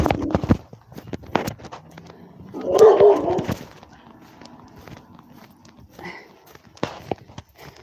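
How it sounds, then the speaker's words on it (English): A dog barks out of the dark during a walk at dusk, one loud close burst in the middle, surrounded by scattered footsteps and crunchy clicks in an otherwise quiet outdoor setting. "that dog scared the shit out of me"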